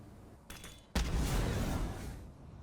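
A Brimstone incendiary molly in Valorant being fired: a short launch sound, then a loud burst that turns into a sustained roaring crackle of flames for almost two seconds.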